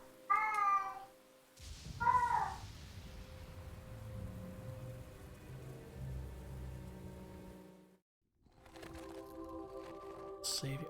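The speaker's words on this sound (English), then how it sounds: "Oh, the poor kitty." A cat in the video game Neverwinter Nights gives two short plaintive meows near the start, followed by a soft steady hiss like rain and faint game music.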